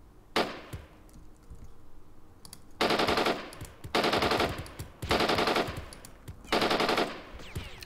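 Automatic gunfire from the video game Jagged Alliance 2: a single sharp shot followed by four loud sustained bursts of rapid fire, each roughly a second long with short gaps between.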